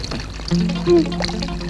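Water runs from a household tap, a steady trickle with a brief louder pouring swell partway through, close by, with faint voices in the background.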